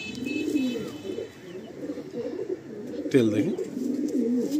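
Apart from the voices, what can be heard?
Kaldam male pigeon cooing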